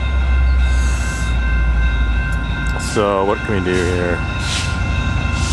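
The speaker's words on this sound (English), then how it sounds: "Oh, another train." EXO commuter train rolling through Montreal West station, a steady loud rumble with a horn-like tonal blast midway, someone talking briefly over it.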